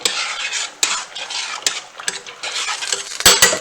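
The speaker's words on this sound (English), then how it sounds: "grab a spoon and give it a stir" A spoon stirs Annie's pasta shells in a pot, sending out busy scraping swishes punctuated by several sharp metallic clinks against the rim, close and fairly loud, with no talking.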